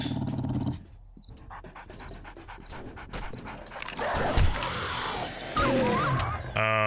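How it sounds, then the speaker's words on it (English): A dog in the video game 7 Days to Die growls and pants with rough, loud bursts mixed with other game noise. "Oh, it's a dog!"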